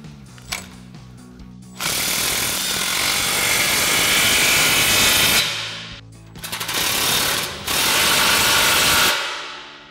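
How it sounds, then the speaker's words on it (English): Ratchet and 15mm socket tightening the clamps on an exhaust muffler, with a loud continuous rapid clicking in two long bursts broken by a short pause, close to the listener. "Go ahead and tighten your clamps."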